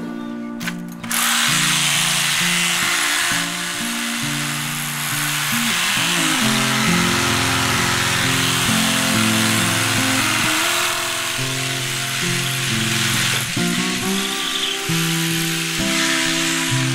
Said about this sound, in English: I might use my drill to drill down the joints there